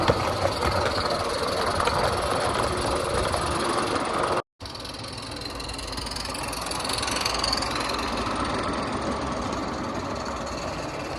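A radio-controlled live steam locomotive runs along an outdoor track pulling cars, giving a steady, close rumble with a soft hiss and rhythmic chuffing, broken by a brief cut in the sound partway through.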